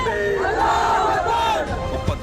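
Rioting mob at a police station in Bangalore, many voices shouting and yelling together in a loud, sustained roar that swells and dips, with one sharp cry near the end.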